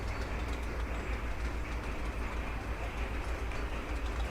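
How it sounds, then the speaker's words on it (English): A train runs in the Sweet Transit video game as a steady, even rumble of rolling carriages that holds at a constant level throughout, with no talking. "I think that's also the only train with the newest carriages on it as well."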